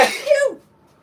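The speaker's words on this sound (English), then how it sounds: "I'm gonna sneeze." One short, sharp sneeze-like burst, close and fairly loud, fading quickly into quiet.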